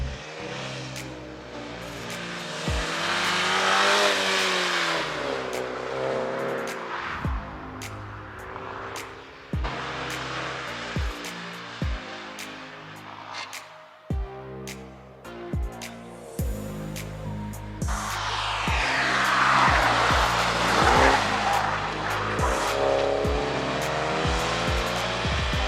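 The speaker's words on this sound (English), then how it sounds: "we've done a couple of hot laps and now we're heading out with Adele in the driving seat" New Mini GP3 lapping a race track at speed in GP mode with assists off: a loud engine that rises through the gears, brief lifts between shifts, and sharp changes in pitch through the corners, heard from close up with no talking.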